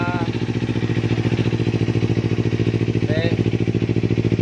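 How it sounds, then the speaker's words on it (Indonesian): A motorcycle with a stock engine and a Yoshimura slip-on exhaust idles up close with a steady, evenly pulsing thrum, and a voice speaks briefly over it. "Nah sekarang kita mau cek suara mesinnya atau engine"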